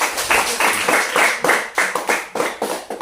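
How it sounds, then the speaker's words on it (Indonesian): Clapping from a small group in a classroom for a student group after its presentation, a burst of quick overlapping hand claps that settles into an uneven rhythm before fading out. "tepuk tangan buat kelompok"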